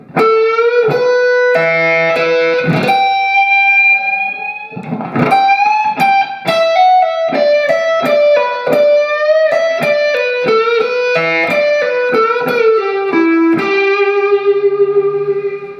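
Distorted electric guitar with effects plays a lick slowly, with sustained bent notes, picked runs and raked strums ringing out over about sixteen seconds, loud and up close.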